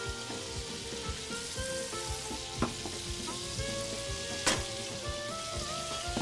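Mushrooms fry in butter and olive oil over high heat in a pot for beef goulash, a dense crackling sizzle with scattered pops and a couple of sharper clacks, fairly quiet, no talk.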